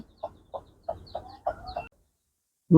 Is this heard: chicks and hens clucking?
yes